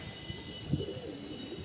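A pigeon gives a brief soft coo, faint against a steady background hum.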